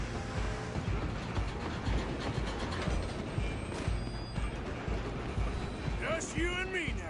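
A moving train in Red Dead Redemption 2 rumbles and clatters steadily on the rails, with mechanical rattling throughout and a character's voice cutting in near the end.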